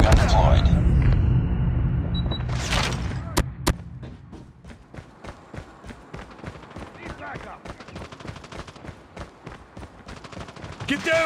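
Sentry gun in a multiplayer shooter fires a long run of rapid automatic shots, mid-distance, alongside other gunfire; game voice callouts are heard at the start.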